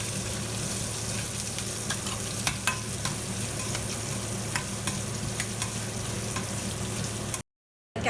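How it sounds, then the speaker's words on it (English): Cashew nuts fry in a pan with grated ginger, a steady close sizzle with occasional stirring clicks and scrapes throughout, briefly cutting to silence near the end. "The cashew nuts are fried."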